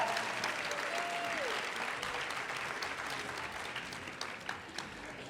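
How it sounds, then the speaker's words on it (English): An awards ceremony audience applauds steadily in a hall, a broad wash of many hands clapping that stays fairly even before thinning slightly toward the end, with a faint tone briefly audible early on. "Let's give another round of applause for Dr. Ramona Bennett and all her excellent"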